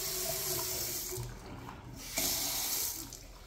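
Water from a bathroom sink tap that won't shut off runs in a steady hiss, softening briefly before the flow surges again.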